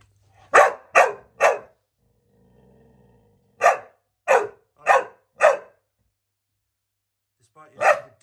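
A dog barks during a training session: three sharp barks close together, a short pause, then four more in a steady series and one final bark, loud and close with no other sound between.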